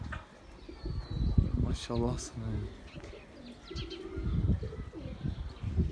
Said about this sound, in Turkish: Havada çok kuş var.